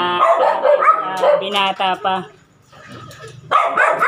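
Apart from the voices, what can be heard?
dogs barking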